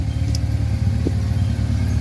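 Honda EK hatchback fitted with a K24 engine, a loud, steady idle-like drone heard up close with no talking over it.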